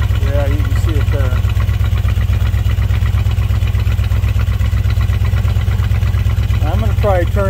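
Engine idling rich on partial choke, a steady, loud, evenly pulsing mid-low drone held close throughout, with someone talking over it briefly at the start and end.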